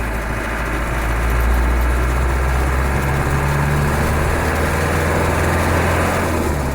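A Land Rover 110 engine drones steadily from inside the vehicle while it drives on a cold day after a snowstorm, a loud continuous low rumble with no talk.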